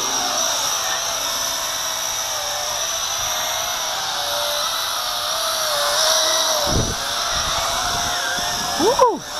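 A v262 LED-strip quadcopter flies outdoors on a breezy night, its motors and propellers giving a steady high-pitched whine that shifts in pitch, close and loud, with wind noise and a person talking briefly.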